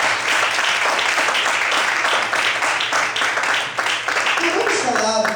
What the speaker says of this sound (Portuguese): Merece um aplauso ao Senhor.